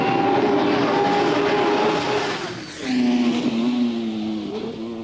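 Racing motorcycles at the Isle of Man TT in 1998, a loud close engine howl that dips briefly then climbs to a higher-pitched whine as a bike speeds past, with no talk.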